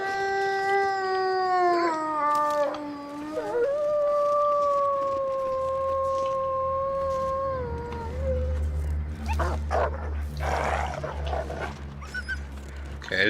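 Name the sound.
wolves howling in the video game The Long Dark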